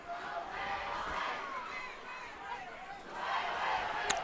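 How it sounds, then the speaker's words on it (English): Student section crowd at a high school homecoming football game cheering and yelling, a sustained distant roar of many voices that swells again near the end. "We got some cheers."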